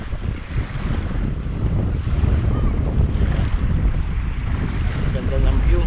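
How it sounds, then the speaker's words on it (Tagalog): Steady sea breeze buffeting the microphone on the Manila Bay shore, a loud continuous low rumble of wind gusts with faint lapping water underneath, alone without talk. "Ang lamig ng simoy ng hangin kahit sa tabing dagat tayo"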